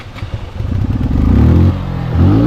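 Motorcycle riding on a rainy day, the engine revving and rising in pitch with a brief dip before pulling again, loud and close with some rattling clatter.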